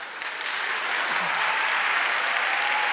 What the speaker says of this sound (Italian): No, questi applausi femminili adesso ve li rimangerete